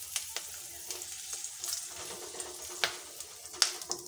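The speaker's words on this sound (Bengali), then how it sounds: "দিয়ে দিচ্ছি দুটো তেজপাতা ফোড়ন, গরম মশলা, আর দিয়ে দিচ্ছি দুটো শুকনো লঙ্কা।" Bay leaves, garam masala and dried chillies crackle and sizzle in hot oil as spices are tempered for a curd-based katla fish curry, a steady close frying hiss broken by sharp pops and spatters.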